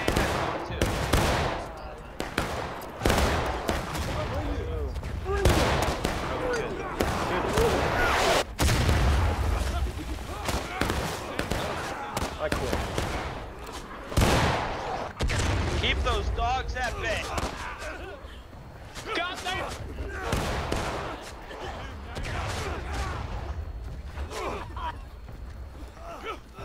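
Musket fire from soldiers in the Civil War game War of Rights during a fight at a bridge: repeated loud cracks and booming shots scattered throughout, mixed with shouting and talk from several players.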